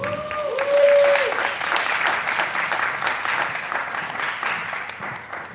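A panel-discussion audience applauds as a panelist walks up to the stage, dense sustained clapping with some crowd noise and a voice briefly over the start, swelling early then holding steady.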